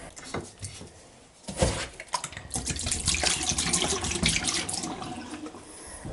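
Antifreeze poured down a drain while winterizing a seasonal home, a steady close splashing and gurgling pour that begins after a short quiet start and continues to the end, with a faint voice early on.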